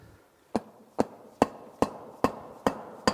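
A small rubber hammer taps the end piece of a Caterpillar 3406E C15 exhaust manifold, seven close, evenly spaced knocks with short decays, quiet and without talk.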